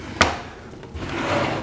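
A wooden enclosure door panel for a Laguna Supermax 19-38 drum sander stand drops into its rear groove with one sharp knock, then slides with a soft rubbing scrape, close up.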